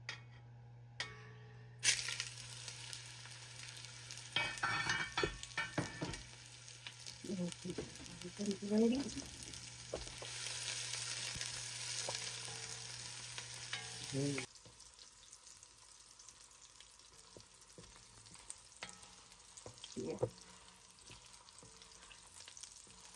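Sausage and oil frying in a very hot pot, a loud steady sizzle with stirring clinks and scrapes, the sizzle dropping away halfway through to quieter, sparse handling sounds.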